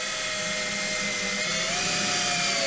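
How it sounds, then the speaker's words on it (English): A power drill boring holes into a steel trailer tongue box weighted down with counterweight, a steady high whine with a constant pitch that drifts slightly, loud and close with no talk. "make sure it doesn't move while we drill these holes."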